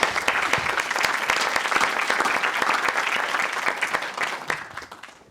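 Healthcare conference audience applauding at the closing session, a full, sustained round of many hands clapping that tapers off at the end.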